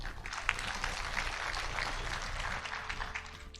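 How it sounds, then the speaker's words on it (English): An audience at a midwives' scientific conference in Kenya applauds after a presentation, dense sustained clapping from many hands in a large room, steady throughout with no voices over it. "I think we can give her a better clap than that."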